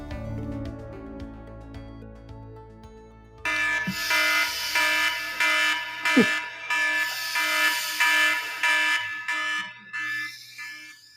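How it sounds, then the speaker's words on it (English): A loud electronic alarm kicks in after a few seconds of quieter tones, blaring in repeated pulsing bursts that continue steadily to the end. "All right, Kellis Robinett, you heard the alarm sounding."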